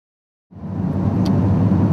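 A car starts moving after half a second of silence, and a steady low engine and road rumble holds at a constant level until the end.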